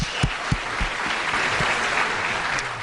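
A crowd applauds after a Sambalpuri folk dance performance, a dense wash of clapping with a few louder individual claps near the start, steady and close for a few seconds.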